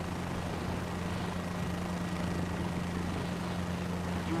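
Helicopter hovering in a flight simulator career mode, a steady low rotor and engine drone with a constant hum, continuous and even throughout, no voices.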